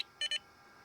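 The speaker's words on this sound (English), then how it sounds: "when it's ready to go, it plays a short audible beep." An Advanced Public Address Server (APAS) unit for a PRAESENSA system gives a short startup beep: two quick, clean electronic tones in a row, clear against near silence.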